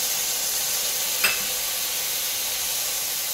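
Masala for egg biryani sizzles in a pressure cooker, a steady bright frying hiss with a brief sharper burst partway through as yogurt goes in.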